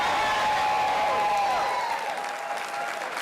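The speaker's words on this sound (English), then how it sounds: "it was difficult to hear over the applause of our fellow patriots" Sustained applause from a large CPAC audience of patriots, a dense wash of clapping with some cheering that stays loud and steady throughout, with a faint voice underneath.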